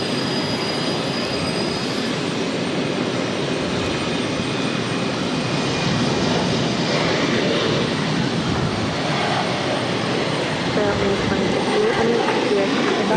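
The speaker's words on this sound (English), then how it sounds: "And this is JetBlue Airways 755 taking off to Washington Reagan National on an E190." JetBlue Embraer E190 jet taking off at Boston Logan, bound for Washington Reagan National: a loud, steady broadband roar of engine thrust that holds throughout, with a voice talking faintly underneath.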